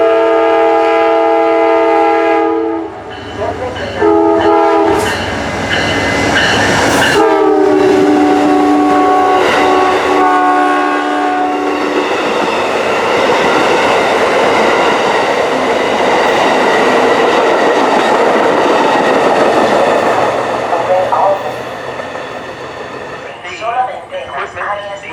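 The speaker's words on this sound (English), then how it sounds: "Train coming." A SunRail train at night sounds loud, repeated horn blasts up close, then rumbles past with a heavy, roaring clatter that fades toward the end.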